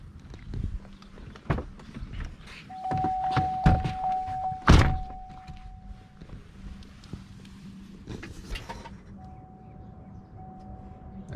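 Fuel pump relay clicking while the fuel pump is primed, with the pump itself not running: a few sharp, close mechanical clicks and thunks over a quiet background, with no motor whine after them.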